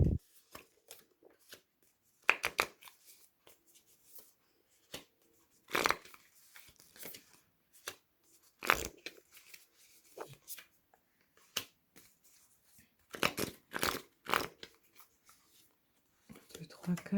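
Oracle cards are shuffled and drawn in scattered soft bursts of riffling and sliding, separated by quiet gaps, with a voice speaking intermittently.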